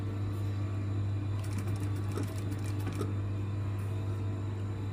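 A sewing machine stitches a seam just outside a stay stitch line, its motor running steadily and loudly throughout with a constant low hum and a busier, brighter stretch of needle clatter in the middle.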